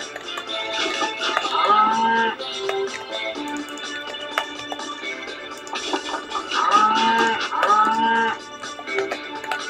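Cattle mooing in the Western multiplayer game Bang Howdy, several loud, drawn-out lowing calls in two clustered bursts over a continuous game backdrop, with no talk.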